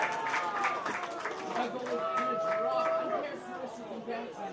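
A crowd in the stands at a high school ultimate frisbee championship game claps and cheers, a steady moderate wash of applause with chatter, under a commentator's talk.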